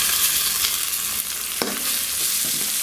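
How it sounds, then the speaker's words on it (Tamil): Tomatoes sauté in hot oil for prawn biryani, a dense continuous sizzle close by, with a single sharp spatula knock near the middle and faint stirring scrapes after. "இப்போ தக்காளி வந்து நல்லா வதங்கிடுச்சு."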